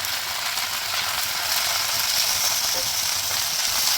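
Boitta greens going into a pan with fried dried fish, a steady bright hiss of sizzling oil with faint stirring clicks, close and continuous with no talk.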